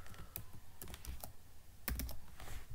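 A computer keyboard being typed on in quick, uneven bursts of clicking keystrokes, close and fairly clear, with no talk.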